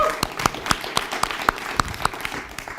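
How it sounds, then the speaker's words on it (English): Sparse applause from a live event audience, individual claps landing in a loose, fairly regular rhythm rather than a dense roar, moderately close and steady for a few seconds. "Let's give a little round of applause again to James Watson and Danielle Pelton on the thing."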